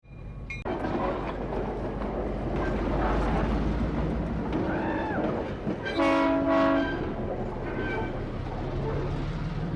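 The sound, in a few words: freight train sound effect with horn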